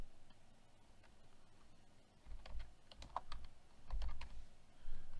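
Quiet keystrokes on a computer keyboard come in a few short clusters of light clicks, close but faint against a soft room hum.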